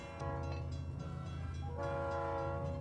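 A train in a film rumbles steadily with a low droning horn held throughout, brighter tones swelling in near the end, loud and continuous with no voices.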